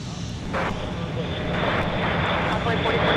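A Global business jet takes off at MSP airport, a steady, loud engine roar building gradually from a distance, with a voice speaking over it.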